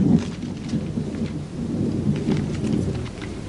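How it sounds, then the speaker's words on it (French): Rolling thunder rumbles beneath steady rain pattering on a surface, a continuous, fairly loud storm bed with no voices over it. "Je crois qu'il y a de l'orage dans l'air."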